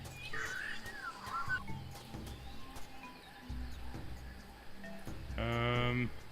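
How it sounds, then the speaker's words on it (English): In the Tales of Monkey Island adventure game, brief bird chirps flutter at the start, followed by quieter game sounds and a short tonal burst near the end. "Yeah, that sounds like birds."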